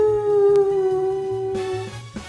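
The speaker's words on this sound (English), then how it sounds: "Deku gives out a howl of happiness" Cartoonish werehog howl from a Deku fan animation, a single long sustained tonal cry with a steady pitch that runs nearly the whole clip over a pulsing musical backing, loud and up front with no talking.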